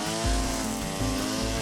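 A string trimmer cutting grass along fences, its engine a loud steady drone with pitch rising and dipping slightly as it works, heard alone up close.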